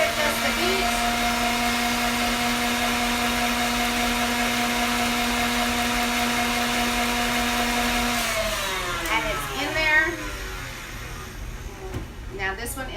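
Electric mixer beating flourless chocolate cake batter with vanilla, a steady loud motor whine for about eight seconds that then shifts pitch and turns rougher and more uneven as the beaters slow.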